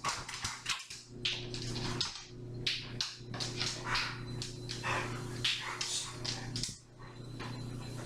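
A dog whimpers and gives short barks at close range near Bevo, bursts coming irregularly amid shuffling and a steady low hum.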